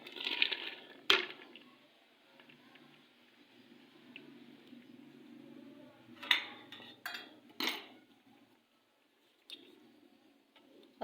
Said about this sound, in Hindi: तो अब मैं इसके अंदर शामिल करने लगी हूँ प्याज और कटे हुए टमाटर।